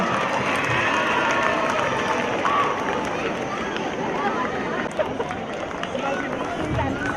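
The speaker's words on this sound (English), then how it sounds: "Please give them a big round of applause" Spectators at a school inter-house athletics meet clap and cheer for runners in a race, a broad steady applause mixed with crowd noise, with a voice speaking over it.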